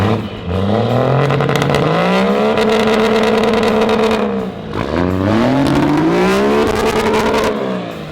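A diesel truck engine revs hard twice, loud, pitch sweeping up and holding, dropping briefly in between before climbing again, close and dominant.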